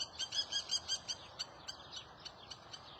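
High, bright bird chirps come in quick repeated bursts, clustered at first and then sparser and fainter, with no other sound.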